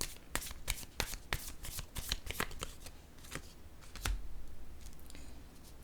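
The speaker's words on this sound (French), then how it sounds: "Je vais piger une autre carte pour ici." Tarot cards are drawn and shuffled close by, giving a run of crisp riffling snaps and flicks in an irregular rhythm, followed by a softer sliding rustle, with no voices.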